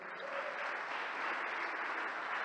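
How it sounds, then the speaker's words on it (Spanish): Church congregation applauding during a service, a steady, even wash of many hands clapping that holds for the whole stretch at moderate volume. "démosle un aplauso al Señor."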